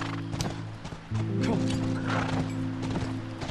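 Horse galloping in the video game The Last of Us, quick clip-clop hoofbeats with a snort or whinny, set against a sustained tonal game soundtrack, no speech.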